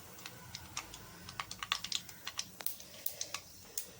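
Mustard seeds and fennel seeds splutter in hot oil in a home kitchen, giving a quick irregular run of sharp, close crackling pops with no talking.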